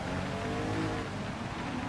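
Race car engine in Gran Turismo 7 on a wet track, droning steadily and loud throughout, with a continuous harmonic whine holding near-constant pitch and no pauses.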